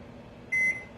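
A microwave oven gives one short, clear electronic beep as it starts, heating an eggless mug cake, against a quiet room hum with no talking.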